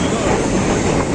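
A train at Dimapur station, a brief loud rumble of rolling railcars with a dense mechanical roar close by.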